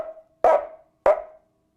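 Drum-kit sound effect imitating a dog barking in the distance: two short, sharp, bark-like hits roughly half a second apart, standing alone and fairly loud.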